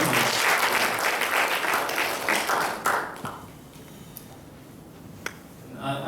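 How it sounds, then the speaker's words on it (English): Audience applause after a keynote speech at an academic conference, loud sustained clapping for about three seconds that then thins and fades into sparse scattered claps and quiet room noise. "let's give him an applause"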